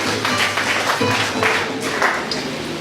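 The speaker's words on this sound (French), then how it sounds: "On nous applaudit le Saint-Esprit à ce moment" A church congregation applauds during a worship service, steady dense clapping from many hands filling the room for a few seconds without pause.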